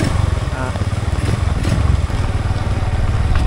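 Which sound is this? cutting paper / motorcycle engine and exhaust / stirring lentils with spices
motorcycle engine and exhaust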